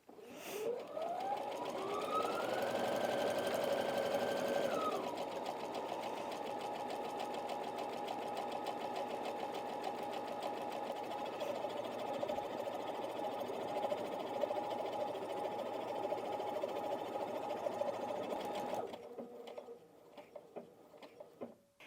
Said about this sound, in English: a buttonhole stitch is quite dense, so it just helps the machine to cope with it slightly better